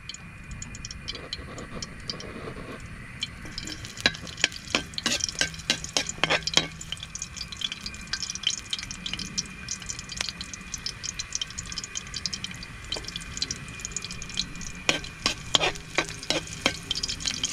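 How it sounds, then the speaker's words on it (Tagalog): Mushrooms and fern shoots sautéing in a pan, with a soft steady sizzle under bursts of sharp clinks and scrapes from a utensil stirring against the metal, close by and fairly quiet. "Gigisa po tayo."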